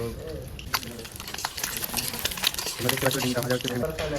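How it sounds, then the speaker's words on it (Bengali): Eggs fry in a pan on a home stove, a steady soft sizzle and patter running under continuous talking, with a few sharper spatters standing out. "তো দেখো এখন ডিম ভাজছি"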